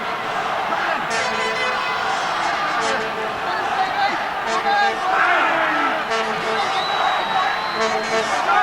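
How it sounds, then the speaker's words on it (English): Rugby crowd at Lancaster Park during a 1987 World Cup quarter-final between New Zealand and Scotland, a loud dense roar of chanting and cheering filling the whole stretch, with talk over it. "And listen to that crowd here at Lancaster Park."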